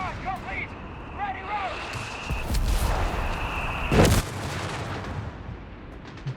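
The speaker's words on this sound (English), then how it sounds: "Barraging away there, not landing too much, sure." Artillery barrage in the real-time strategy game Company of Heroes 3, with distant booming shell impacts and a sharp close blast near the middle, mixed with game effects under a commentator's voice.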